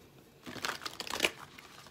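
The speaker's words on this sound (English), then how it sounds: "when you have a deck like this that's so big, you just shuffle it sideways." Large tarot card deck shuffled sideways, a brief burst of papery riffling and crinkling lasting about a second, close and moderately loud with no talk.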